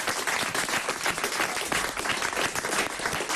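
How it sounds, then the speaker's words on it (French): A studio audience at a French comedy show applauds steadily, a dense, even wash of many hands clapping close by with no break for the whole stretch. "On peut applaudir Dali Moreau."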